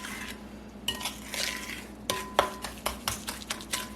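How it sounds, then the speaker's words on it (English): Cake batter is stirred with sugar in a bowl, with scraping and swishing strokes followed by a regular series of knocks of the utensil against the bowl. "we're mixing it together with our sugar"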